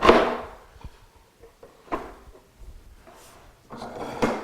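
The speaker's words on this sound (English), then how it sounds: "put the tray in my vise to hold it in place" A wooden tray is set and clamped into a woodworking vise, giving a few close, separate wooden knocks and clunks with short quiet gaps between them.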